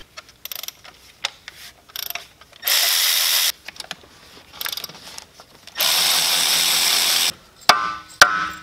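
A ratchet wrench loosening bolts on a Cummins diesel's lower valve cover: two long bursts of rapid ratcheting clicks, separated by short clanks and quiet handling noises, close and clear with no talking.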